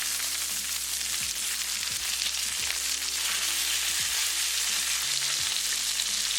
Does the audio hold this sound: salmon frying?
yes